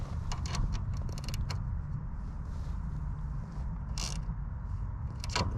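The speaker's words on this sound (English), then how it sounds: "I have the tools with me to loosen it, tighten it, loosen this bolt, and tighten the chain just a smidgen." Tools working a bolt on a 1965 Honda Cub C200 to tighten its chain, with scattered metallic clicks and creaks over a steady low outdoor rumble, close and fairly faint.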